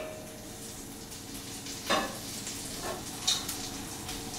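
Fish fries in olive oil and butter in a pan with a faint, steady sizzle and a couple of soft clinks from stirring or handling.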